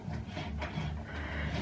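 A Cricut cutting machine runs close by in a short burst of whirring, clattering mechanical noise, steady and fairly quiet with no talking.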